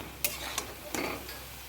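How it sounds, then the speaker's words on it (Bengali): Bora fritters frying in oil, a soft steady sizzle with a few brief clicks and scrapes of stirring, fairly quiet. "এইবার এখানে আমি আস্তে আস্তে বড়াগুলো লাল লাল করে ভেজে নেব"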